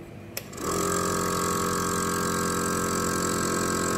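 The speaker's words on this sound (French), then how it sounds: "Je démarre la pompe." An EnolMatic bottle filler's vacuum pump switches on after a faint click and settles into a steady, close, loud electric hum with a constant mechanical buzz, no voices over it.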